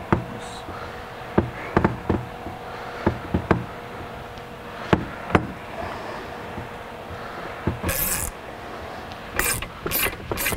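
A wrench works a nut while a suspension bushing is pressed out, giving sharp scattered ratcheting clicks and knocks at irregular intervals, and a few brighter metallic rasps near the end.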